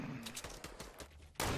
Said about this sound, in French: Ça a tiré là.